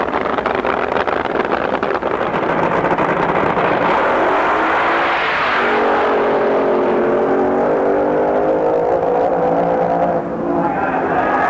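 Don Garlits' dragster making its official 200 mph drag racing pass, a loud continuous engine roar with the pitch rising and shifting as the car accelerates, heard at a distance.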